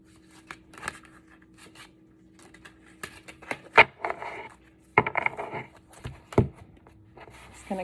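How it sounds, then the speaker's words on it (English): A Lioness Oracle Tarot deck being shuffled by hand, giving crisp papery riffles and snapping card clicks in uneven bursts, close and fairly loud against a quiet room. "I'm shuffling the deck and I'm using the Lioness Oracle Tarot by Alejandra Leon."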